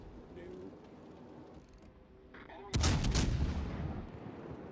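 Naval ship guns firing shells in the World of Warships game, a heavy booming salvo that bursts in loudly after quieter game ambience, with a rumbling tail and faint distant gunfire earlier.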